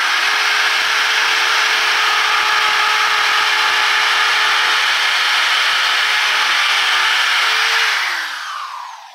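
A power drill bores screw holes into scrap wood for a soil sifter, running as a loud, steady, close whine for about eight seconds before spinning down at the end.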